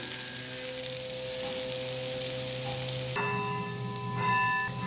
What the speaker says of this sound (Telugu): ఇలా చక్కగా ఫ్రై చేసుకోవాలి ఆయిల్లో